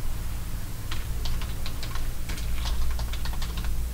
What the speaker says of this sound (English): I'm gonna try to type my name.